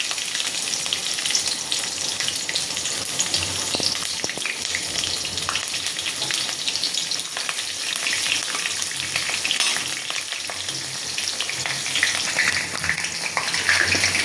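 Cumin seeds and chillies frying in hot oil for a North Karnataka kadalekalu usal, a steady loud crackling sizzle throughout with occasional stirring scrapes, no talk.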